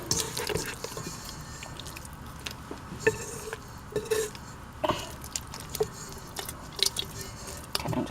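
Pita bread dough being kneaded and worked into a ball with oil in a bowl, giving soft, wet squishing and slapping sounds in irregular bursts, fairly quiet and close, with no talking.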